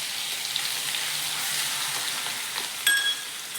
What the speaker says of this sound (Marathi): त्याच्यानंतर आपण वाटलेला मिरचीचा ठेचा टाकून घेणार,